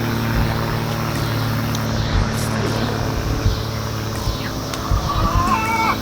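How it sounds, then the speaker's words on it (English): An airplane passes overhead in an urban garden in summer, a steady loud engine drone with a constant low hum filling the whole stretch, with faint outdoor sounds and no talking. "Got an airplane overhead."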